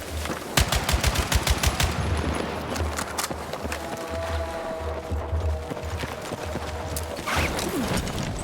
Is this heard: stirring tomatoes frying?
no